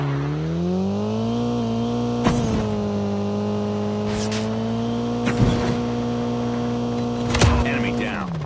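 Vehicle engine in the Call of Duty Mobile battle royale: a steady droning motor hum runs throughout, shifting pitch as it revs, punctuated by several sharp impact bursts and under occasional game voice callouts.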